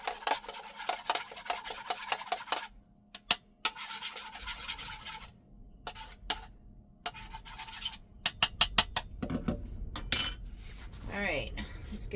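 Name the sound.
stirring eggs in a pot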